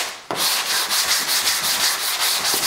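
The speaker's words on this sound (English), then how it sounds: "I'm going to come back in with our DuraBlock with 180 grit sandpaper" Fiberglass body filler sanded by hand with 180 grit sandpaper on a DuraBlock sanding block, making a loud, close, steady rasping scrape in regular back-and-forth strokes with no talk.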